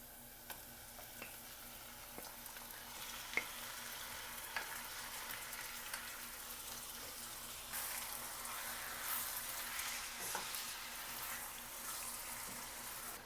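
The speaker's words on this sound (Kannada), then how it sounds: "ನಂತರ ಆ ನೀರೆಲ್ಲ ಆವಿ ಆಗೋವರೆಗೂ ಫ್ರೈ ಮಾಡೋಣ" Marinated chicken frying with onions in an open pan, a steady soft sizzle running throughout with occasional faint clinks of stirring, moderately quiet and close, no talk.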